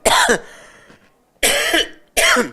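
Three harsh, loud coughs up close, the first a double burst, then two more after a pause.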